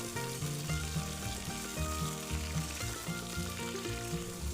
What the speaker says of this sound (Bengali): তেলে দেবার পরে কিন্তু বেশ কিছুক্ষণ একটু ভাজা ভাজা করতে হবে